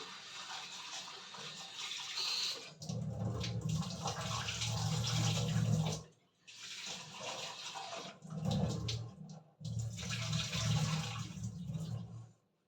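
Vegetables get washed under running tap water, a splashing, rushing flow that stops and starts several times with brief silences between, moderately close.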